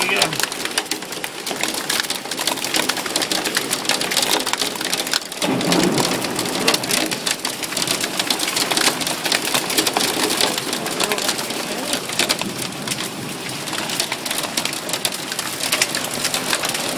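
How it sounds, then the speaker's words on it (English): Hail clatters steadily on wood and leaves during a late-summer hailstorm, a dense, continuous patter with a brief louder burst partway through, while people talk over it. "A lot of hail."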